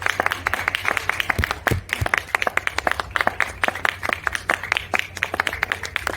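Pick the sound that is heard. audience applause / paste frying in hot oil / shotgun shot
audience applause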